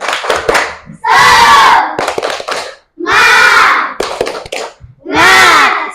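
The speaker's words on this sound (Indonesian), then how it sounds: "Tepuk semangat." A classroom of students does a rhythmic spirit clap: quick patterned bursts of many hands clapping together, alternating with loud group shouts and chanting, close and energetic.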